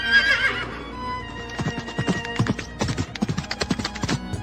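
Cartoon horses on a forest road neigh loudly at the start, then hooves clip-clop in an uneven, quickening rhythm, close and clear with no talk over them.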